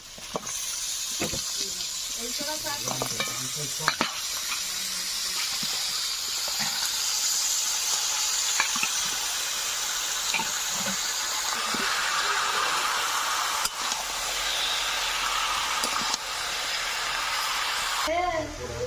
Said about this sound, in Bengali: ঢাকা দিয়ে দিয়ে মাঝে মাঝে উল্টায় নাড়া দিতে হবে। এইভাবে মাংসটা ভেজে নেব।